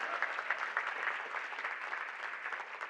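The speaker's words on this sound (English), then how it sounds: "go ahead and clap. We're gonna clap, we can do that." A conference audience claps during a UX closing keynote, a moderate, fairly distant patter of hands that stays steady and slightly fades toward the end.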